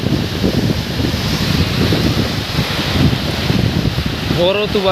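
Strong storm wind roars steadily in a loud, continuous rush with heavy rain, with a voice briefly heard near the end.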